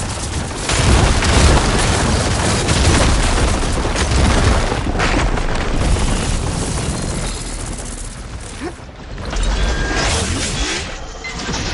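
Ballista shots and heavy explosions in Horizon Forbidden West, loud booming blasts and mechanical thuds rolling together into a continuous battle roar, with a short lull before the rumble returns.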